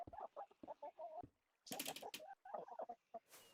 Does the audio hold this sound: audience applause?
no